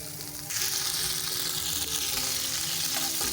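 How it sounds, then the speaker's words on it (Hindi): Onions fry in hot ghee for a chicken yakhni pulao while a spoon stirs them, giving a steady, close, loud sizzle that swells slightly after the first half-second and holds evenly throughout. "घी में मैंने प्याज डाल दिया है, ठीक है। अब इसको चमचे की मदद से हिलाएंगे।"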